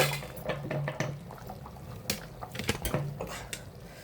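Paneer, cauliflower and peas masala gravy bubbling in a pot, with soft irregular plops and clinks of utensils against the pan, close by, with no talk.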